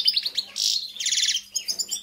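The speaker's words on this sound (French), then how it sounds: "Un chardonneret qui chante les amis." A European goldfinch kept in a breeding aviary sings a short burst of bright twittering chirps and rapid trills, close and clear, with no voices.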